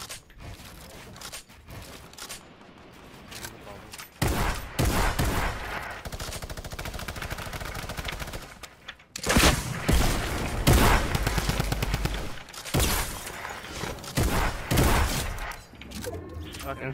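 Gunfire in the Champions Arena video game, with sharp repeated bursts and rapid volleys alongside mechanical clatter, loud and close, while players talk throughout.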